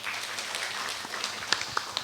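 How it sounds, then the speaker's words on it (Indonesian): Scattered applause from a small group at a community health centre accreditation meeting, brief and moderately loud, with a few sharper individual claps near the end. "Tepuk tangan dulu."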